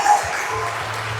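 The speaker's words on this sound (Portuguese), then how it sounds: "Diga glória a Deus e aplauda Ele sim." A church congregation bursts into a short burst of applause, dense clapping filling the room for about a second.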